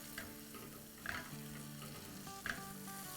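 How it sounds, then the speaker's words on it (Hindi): Green chillies frying in oil over a high flame, a soft continuous sizzle with a couple of brief stirring scrapes, faint and without any voice. "तो बस ये हम थोड़ा सा तेज़ आंच में इसको थोड़ा सा कलर आने तक फ्राई कर लेंगे।"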